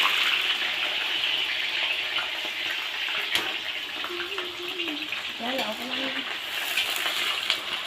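Chopped onions sizzle in hot oil with a steady, dense hiss that runs throughout, while people talk over the cooking.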